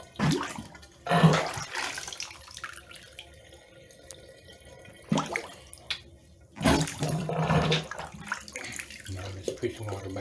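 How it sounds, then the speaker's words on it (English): Water gurgles and sloshes as it is forced back up through a clogged bathtub drain, coming in several bursts with quieter stretches between them, fairly close, with a little talk mixed in. "Now I'm just pushing water back up in there."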